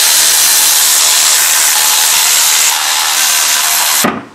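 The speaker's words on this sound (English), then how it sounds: "I'm just going to use the driver to crack them" A power driver whirs loudly and continuously as it cracks loose camshaft bearing cap bolts on a BMW E36 engine, running for about four seconds before cutting off abruptly.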